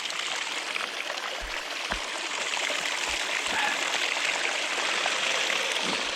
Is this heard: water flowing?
yes